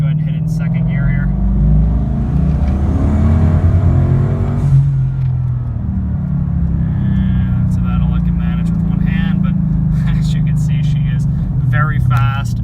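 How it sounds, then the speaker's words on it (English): A turbocharged Mustang pulls at full throttle in second gear, its engine rumbling loud and close with a steady rising drone, while someone talks over it throughout. "I'll show you a nice full throttle pull of the car"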